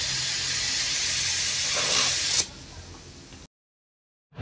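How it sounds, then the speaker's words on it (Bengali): Pressure cooker of dal on a gas stove, with a loud, steady broadband hiss of escaping steam lasting over two seconds, then easing to a softer hiss before cutting to silence and a brief return at the end. "এবার প্রেসার কুকারে সেদ্ধ করে নেব। বসিয়ে দিয়েছি গ্যাসে।"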